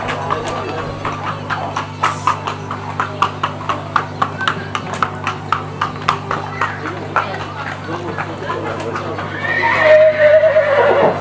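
At a horse beauty pageant during a village festival on Lesbos, a steady run of evenly spaced hoof clip-clops sounds close by, with a whinny breaking in and a louder rush of noise near the end.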